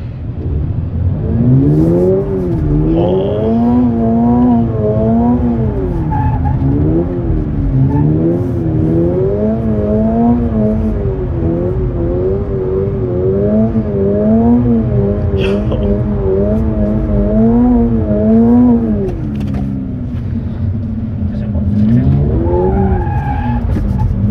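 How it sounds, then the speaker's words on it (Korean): A Toyota GR86 sports car with a boxer engine, rear-wheel drive and a manual gearbox, on a track at Inje Speedium under hard throttle while turning: a loud engine drone rising and falling in repeated waves over continuous tyre squeal. "이렇게 해서 이제 턴을 할 때 엑셀을 강하게 한번 해보겠습니다."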